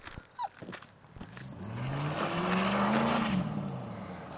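A Ford Sierra does a reverse burnout: a few knocks and short noises, then a rising engine whine and sustained tire squeal, moderately close.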